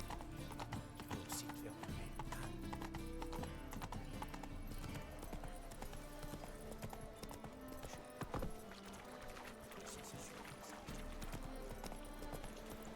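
Horse hooves clip-clopping through a town in the video game The Witcher 3, a steady rhythmic clatter of hoofbeats with a brief neigh, mixed with background game music and a voice talking over it.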